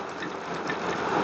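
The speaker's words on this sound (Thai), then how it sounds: "ฝนตกนะครับ แล้วก็ รถวิ่งผ่านไปมา" Steady hissing patter of falling rain, close and continuous, with a faint mechanical rattle underneath and traffic passing, recorded through a BLAISE X2 Bluetooth motorcycle helmet headset.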